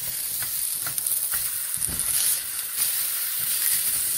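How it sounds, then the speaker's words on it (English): Thin sausages frying in a pan, a soft continuous sizzle with faint hiss and occasional light clicks, no talk. "Sausage is already cooking up good here."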